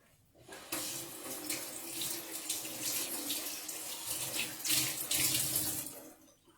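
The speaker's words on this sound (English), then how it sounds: "So I'm just going to give them a quick rinse. Cold water." Cold tap water runs into a kitchen sink to rinse frozen food, a close, steady hiss and splatter that starts abruptly, shifts in texture as the stream hits the food, then cuts off, with no talking.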